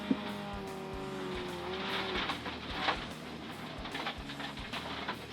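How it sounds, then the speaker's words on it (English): A 2WD rally car spins 180 degrees on a tight forest road at over 90 mph, its engine roaring steadily with tire noise and skidding throughout, loud and close from on board. "nothing like spinning 180 degrees on a tight forest road at over 90 miles an hour"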